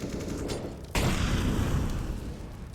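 Two stacked grenades explode together in a Counter-Strike match on the Overpass map, a single sudden loud blast that cuts in over constant game noise and then rumbles on, with no talk.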